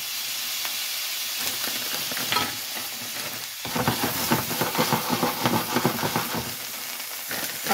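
Shrimp stir-frying in a hot pan, a constant hissing sizzle that flares louder midway as the shrimp are tossed, with clattering stir strokes and steady crackle.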